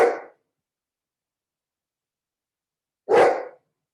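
A dog barks twice indoors, two short, loud single barks about three seconds apart with silence between them and no talking.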